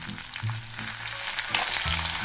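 Curry leaves hiss and crackle in hot oil, added after cashews and ginger-garlic paste for a ven pongal tempering; a steady close sizzle with a few sharper pops, no voices.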